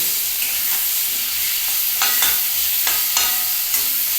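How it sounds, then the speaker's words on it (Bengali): Sliced onion and long-cut potato strips fry together in a pan, giving a steady close sizzle with occasional sharper spatters and stirring scrapes, no voices. "এখানে পেঁয়াজ আলুটা বেশ একসাথে ভাজা হয়ে যাবে"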